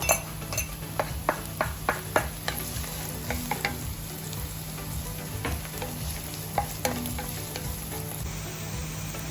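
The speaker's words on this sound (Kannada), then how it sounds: "ನಾನೀಗ ಎಣ್ಣೆ ಹಾಕ್ಕೊಂಡಿದ್ದೇನೆ. ಸೊ ಈಗ ನೀರುಳ್ಳಿ ಹಾಕ್ತೇನೆ." Onions fry in coconut oil in a kadai, with a continuous low sizzle, a low steady hum underneath, and frequent clinks and scrapes of a ladle against the metal, close by, with no talking.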